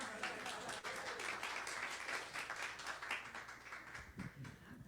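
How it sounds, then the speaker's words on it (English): A church congregation at a Sunday celebration service claps together, a fairly faint, steady patter of applause with individual claps standing out and some voices beneath. "Clap, clap, clap, clap."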